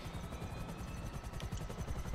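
A Buzzard attack helicopter in GTA V Online makes a continuous rhythmic rotor chop, fairly quiet and steady throughout the short stretch, with no talk over it.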